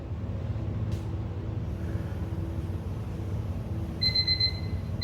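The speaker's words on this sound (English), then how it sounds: "And there's the timer." A workout interval timer goes off near the end of a forearm plank HIIT session, a quick run of bright electronic beeps over steady background noise.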